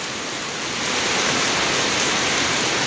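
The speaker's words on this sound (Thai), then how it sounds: "ฝนตกพี่น้อง" Rain from a storm passing over Laos falls steadily as a dense, loud hiss that swells about a second in and then holds without a break.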